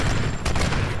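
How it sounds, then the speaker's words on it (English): A loud close explosion burst in Tomb Raider Definitive Edition free-for-all multiplayer, a brief heavy blast with a sharp hit near the middle amid dense game noise. "that explosion."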